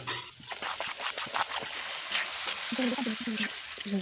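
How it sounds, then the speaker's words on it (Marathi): Besan or wheat flour roasts in the tempering oil in a pan for a home-style cauliflower curry, with a soft crackling sizzle and stirring scrapes, and a voice talks briefly near the end. "थोडंसं कच्चं जायपर्यंत भाजायचं पिठाला सुद्धा"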